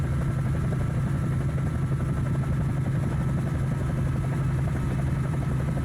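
A helicopter's rotor and engine in the Microsoft Flight Simulator 2024 video game drone steadily and loudly, with a continuous low thrum and rotor beat and no voices.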